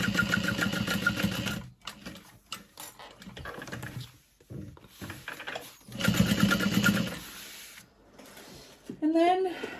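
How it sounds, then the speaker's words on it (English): A sewing machine back stitching a seam on a fabric tote bag, running in steady rattling bursts close by, stopping and restarting, while a person talks over it. "And I'm going to back stitch over here, over that joined piece to help reinforce it."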